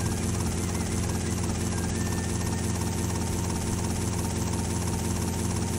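A game helicopter in GTA Vice City Stories gives a continuous, even whirring rotor and engine roar for several seconds, fairly quiet and alone with no voices.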